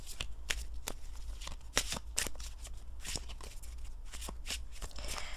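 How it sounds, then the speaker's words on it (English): Cards are riffled and shuffled in quick, crisp bursts of flicking and snapping, close up and fairly quiet, with no voices. "let me shuffle it one more time"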